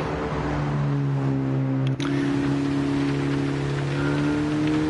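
Steady rain hiss from a wet-weather race in Gran Turismo 7, holding at an even level with a low engine drone beneath and a brief dip partway through.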